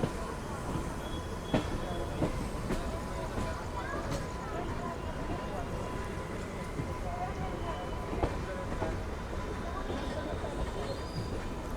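Inside a general coach of a night train pulling out of Indore Junction, a steady rumbling ride noise with rattles and faint wheel clatter runs throughout, with a few sharper knocks and a murmur of background voices.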